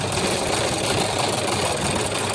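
A sewing machine running continuously while stitching a baby frock, a dense, even, rapid mechanical whir close by, alone and without breaks.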